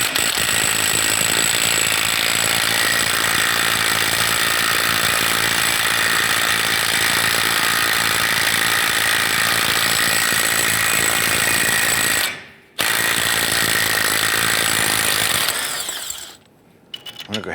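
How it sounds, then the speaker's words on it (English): A pneumatic impact wrench spins a 32mm socket to break loose the front axle nut on a 1995–2001 Ford Explorer, a loud continuous rattling hammer that runs nearly unbroken, pauses briefly, then resumes and trails off at the end. "we're going to go ahead and use our 32mm socket and remove our axle nut"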